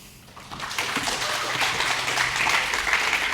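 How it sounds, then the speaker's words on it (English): A conference audience applauds to welcome a speaker onto the stage at Craft Conference. The clapping is dense and steady, starts a little softer, then builds and holds at full strength throughout. "Please welcome with a huge applause"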